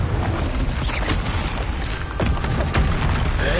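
Confringo blasting spell going off in Hogwarts Legacy on PS5, with a dense wash of game noise and several sharp, close bursts cracking through, the loudest near the middle and another just before the end.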